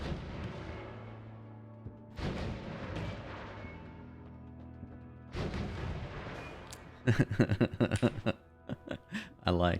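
A large magic missile spell from the game Noita fires in heavy booming blasts, first a few spaced rumbling launches, then a rapid crackling cluster of impacts near the end, with talk over parts of it.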